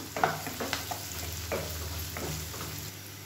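Beans and mixed vegetables stir-fried in a pan for egg fried rice: steady sizzling, with a few scraping stirs of a spatula near the start and middle, and no talking.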